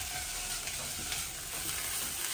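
Food sizzles and fries steadily in a plug-in electric pan that needs no hob, a constant close hiss with faint stirring and no talk.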